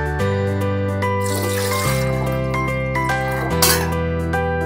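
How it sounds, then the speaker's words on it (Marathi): Water pours from a glass into a pressure cooker for steaming idli, a steady close trickle and splash under sustained background music. "आता आपण कुकर मध्ये 2 ग्लास पाणी उकळण्यासाठी ठेवू."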